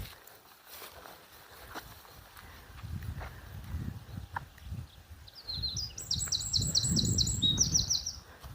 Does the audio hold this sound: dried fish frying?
no